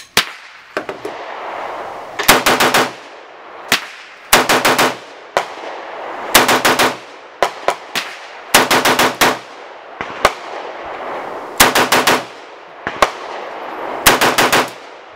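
Snake Hound Machine toy gun firing in short rapid bursts, sharp loud rattling volleys interspersed with single cracks and brief pauses, repeating over about fifteen seconds.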